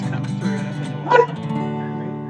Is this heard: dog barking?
yes